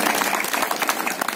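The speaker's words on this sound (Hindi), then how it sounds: "ताली बजाइए अपने माँ बाप के लिए" A short burst of crowd applause at an Independence Day event held at an electric locomotive shed in Ludhiana, many hands clapping together, loud and close, with no talking heard.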